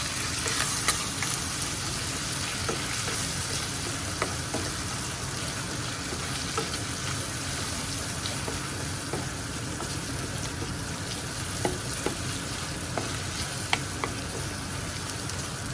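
Food frying in a pan while being stirred, a steady moderate sizzle with occasional scrapes and clicks of the utensil over a long stretch.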